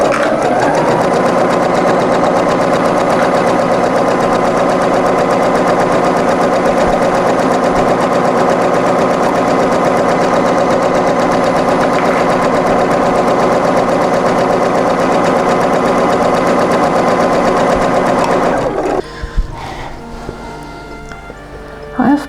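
A sewing machine runs steadily, stitching a shirt's button band to the bodice piece, a continuous loud whir for about nineteen seconds that stops abruptly, followed by faint handling noises.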